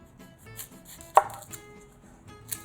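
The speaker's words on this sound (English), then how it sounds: "So we're going to cut off both ends very carefully." A kitchen knife slices the ends off an onion on a cutting board, giving a few crisp, isolated cuts with one sharp chop standing out in a quiet room.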